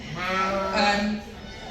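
Valais sheep bleat at a rainy sheep show, a loud, wavering, sustained bleat close by with busy crowd background noise.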